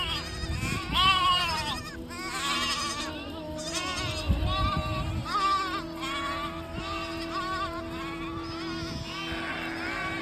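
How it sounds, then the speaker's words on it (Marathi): Several goats bleat repeatedly, with wavering cries overlapping one another, over a low steady background rumble. "दिवसभर रानात फिरून फिरून बकरी आली"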